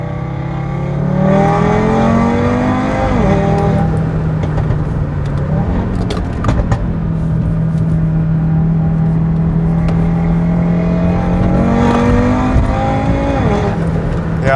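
A 420+ kW Audi RS3 running on race fuel accelerates hard on an open road, its engine note climbing loud and close through several gear changes, with pops and a steady high-revving drone between shifts.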